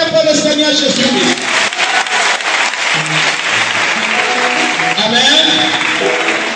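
A church congregation cheers and applauds in praise of the Lord Jesus, a dense, steady wash of clapping and shouting voices that fills the whole stretch at close, loud level.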